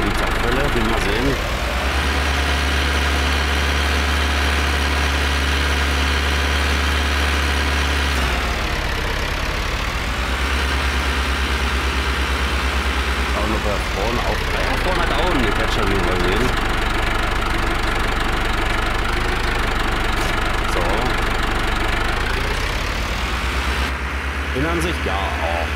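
A Deutz D80 vintage tractor in Farming Simulator 19 runs with its power take-off engaged, giving a loud, steady, close engine drone with a slight knocking pulse that shifts pitch a few times. Someone talks over it.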